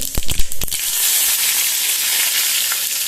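Mustard seeds hit a very hot pan for a Goan cowpea curry and burst into a loud, dense sizzle. A few sharp pops and crackles come first, then a steady hiss holds throughout, close up and with no talking.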